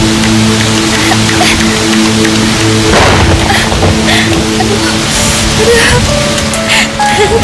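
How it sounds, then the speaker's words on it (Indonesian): Steady, dense hiss of heavy rain pours down throughout, close and loud, with faint rumbling underneath and no talking. "Hujan semakin lebat."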